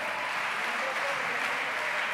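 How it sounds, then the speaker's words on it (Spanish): A concert audience applauds in a continuous, dense roar of clapping that holds at a steady level from start to finish, with no distinct beat and no voices. "Pedimos un rítmico aplauso"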